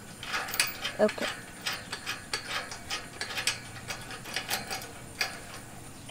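A wrench ratcheting as it tightens the bracket of a solar-powered driveway gate opener outdoors, giving a string of quick, light clicking pulls at an uneven rhythm with a few brief spoken acknowledgements.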